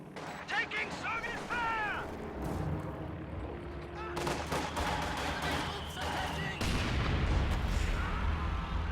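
Gunfire and mortar blasts from a WWII real-time strategy game with Panzer IV tanks, Grenadiers and a Maxim gun, repeated booms and rattling shots at mid distance under steady speech from a commentator.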